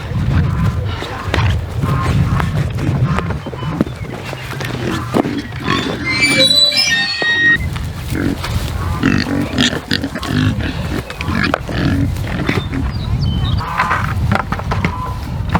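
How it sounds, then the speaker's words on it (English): Several pigs grunt and snort up close, with a few higher squeals in the middle, over rustling and shuffling around them. "All right, so we got some happy pigs."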